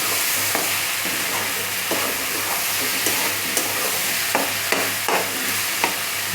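Ginger garlic paste being stirred into chicken in a hot pan for chicken chutney, a loud steady sizzle with a spoon scraping the pan in several separate strokes, no voices.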